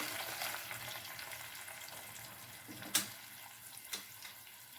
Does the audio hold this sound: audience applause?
no